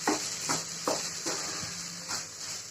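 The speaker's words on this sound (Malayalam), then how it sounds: "നന്നായിട്ടൊന്ന് മിക്സ് ചെയ്യുക. എല്ലായിടത്തേക്കും ഒന്ന് യോജിപ്പിക്കുക നന്നായിട്ട്." A spoon stirs carrot laddu mixture in a pan, making regular soft scraping strokes about every half second over a faint steady sizzle, close and alone with no talking.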